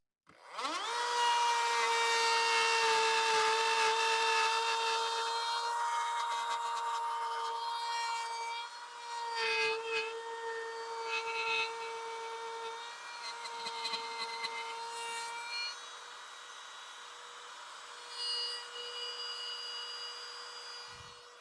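A power tool roughs out a mortise in a live edge wood slab for a whiskey cabinet, giving a loud, steady, high-pitched whine that runs almost unbroken for about twenty seconds, with slight dips as the cut shifts and no talking.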